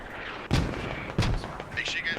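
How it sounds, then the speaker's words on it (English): Mortar fire in the video game Squad, two heavy muffled thumps about a second apart, moderately loud, with someone talking quietly in the background. "Oh, and here comes the mortars. They're finally mortaring that position."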